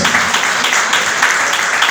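A church congregation breaks into steady applause, a dense wash of clapping hands sustained evenly throughout without any voice rising above it.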